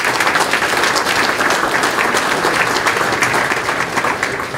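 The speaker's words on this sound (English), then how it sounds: "Let's give him a big round of applause." An audience at a Union Sportsmen's Alliance event breaks into sustained applause, dense steady clapping from many hands filling the room for several seconds.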